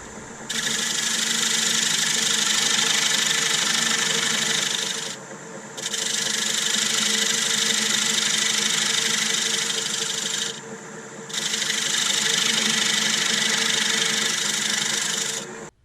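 Wood lathe cutting away the tenon on a large hazel bowl: a loud, steady rasping scrape in three long passes with brief pauses between them.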